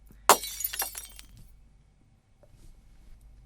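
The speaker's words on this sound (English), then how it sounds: "the glass had cooled, hardened, and so I merely smashed into it at 120 miles per hour" Glass smashing on impact: one sharp crash followed by a quick scatter of tinkling shards that fades to near silence, with a faint clink after.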